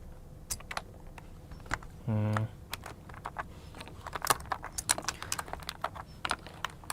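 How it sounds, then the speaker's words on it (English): Keycaps are pried off a GK600 TKL wireless mechanical keyboard, giving a series of sharp plastic clicks and taps scattered irregularly across the clip, with a brief buzzing hum partway through. "So I'm now removing some keycaps"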